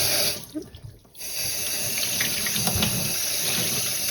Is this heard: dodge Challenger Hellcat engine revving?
no